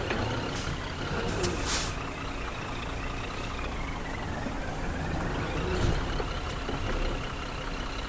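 A Scania R1200 truck reversing a trailer gives off a low, steady diesel drone, with a few brief hissing bursts breaking through the constant engine rumble.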